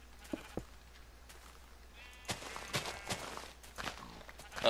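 A Minecraft sheep bleats once near the middle, amid soft in-game footsteps and small clicks, everything fairly quiet and alone without talk.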